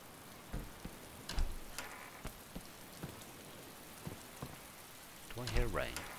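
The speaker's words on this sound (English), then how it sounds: "Do I hear rain?" Rain in the video game DayZ patters softly and steadily on surfaces, with scattered drip ticks throughout and a brief voice near the end.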